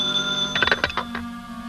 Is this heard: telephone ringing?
yes